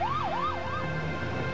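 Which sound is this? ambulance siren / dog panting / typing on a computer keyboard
ambulance siren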